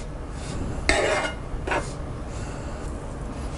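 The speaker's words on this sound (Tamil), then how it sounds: "இப்போ நம்ம கொஞ்சம் கொஞ்சமாக தேங்காய் பால் ஊற்றி பிசைஞ்சிக்கலாம்." Dough for Nellai madaku paniyaram is kneaded by hand while coconut milk is poured in little by little, giving two short wet squelching rubs against the bowl over a low, quiet background.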